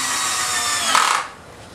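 A power drill whirs steadily at close range driving screws into a board, rising briefly in pitch as it bites, then cutting off and leaving a quieter hum.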